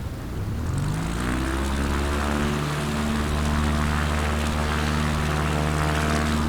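A propeller airplane in Microsoft Flight Simulator rolling down the runway for takeoff, its engine a loud, steady drone whose pitch climbs as power builds, then holds strong and even, with no voices.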